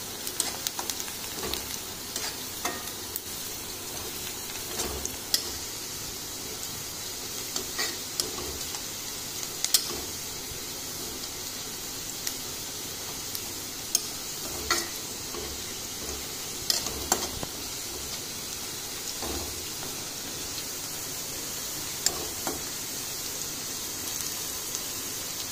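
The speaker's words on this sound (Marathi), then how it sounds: "आपला कांदा होत आलेला आहे, अजूनही थोडा वेळ त्याला" Chopped onion fries in a pan for a Marathi moth-bean usal, a steady soft sizzle with faint scattered ticks and clicks, quiet and continuous with no talking.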